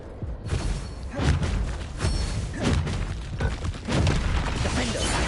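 Explosive Confringo spell blasts from the Hogwarts Legacy video game, a string of heavy booming bursts over continuous loud combat noise, with a voice speaking now and then.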